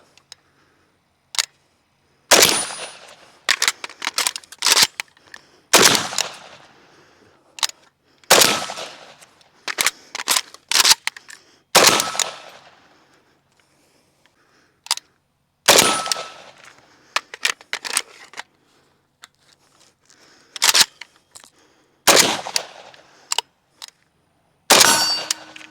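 Rapid metallic clacks and snaps of an AK-47 rifle magazine being swapped in a fast speed reload, heard as sharp, close, isolated bursts repeated every few seconds with quiet gaps between.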